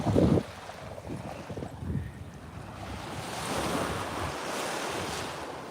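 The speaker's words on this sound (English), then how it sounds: "The tide's coming in, I think, because it's creeping up closer and closer." Ocean surf washing onto a beach as the tide comes in, a steady broadband wash of breaking waves with wind, loud and continuous throughout, with no speech.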